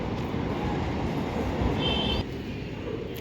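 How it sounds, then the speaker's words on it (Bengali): A train passes near a rooftop screened by trees, a loud continuous rumble with a brief high metallic squeal before the noise drops slightly. "এই যে ট্রেন যাচ্ছে, ট্রেনের আওয়াজ"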